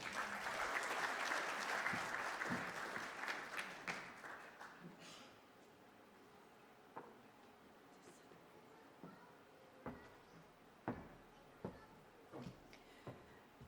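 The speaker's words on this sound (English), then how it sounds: "A round of applause for her." A crowd applauds at a hall-of-fame induction ceremony in the evening. The applause is broad and sustained at first, then fades into scattered single claps and taps that continue toward the end.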